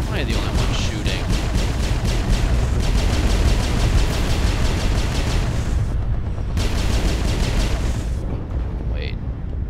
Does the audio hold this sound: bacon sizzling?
no